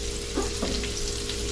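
Shrimp lying flat in a hot pan give off a close, steady sizzle and crackle, with a couple of soft pops, for a short stretch.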